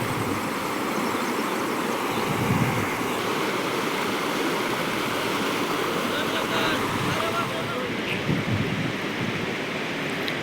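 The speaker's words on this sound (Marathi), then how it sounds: "हे आपलं तलाव भरले ना तलावचं पाणी वाहते" Water pours out of a brimming pond after rain, a constant broad rushing roar close by with a faint voice now and then.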